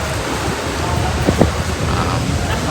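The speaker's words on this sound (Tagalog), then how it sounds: "Malakas ang hangin at saka ang alon." Steady, loud wind rushes across the microphone aboard a cruise ship, with surf churning underneath in a constant roar, no other sounds standing out.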